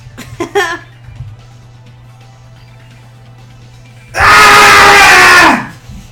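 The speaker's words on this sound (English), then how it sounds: "Screamed loudly, as if I was confirming the sound of my own voice" A character in Danganronpa 2: Goodbye Despair lets out a long, loud, sustained scream lasting over a second, after short vocal sounds and a quiet stretch with a low hum.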